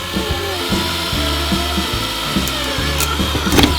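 A power drill boring a hole through a glass Coleman lantern globe, with a steady close motor whine and rhythmic grinding pulses, then a few sharp clicks at the end.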